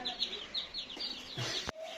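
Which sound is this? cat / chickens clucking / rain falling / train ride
chickens clucking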